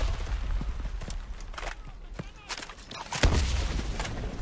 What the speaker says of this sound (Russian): Огромная скорострельность у ППД-34. 900 выстрелов в минуту.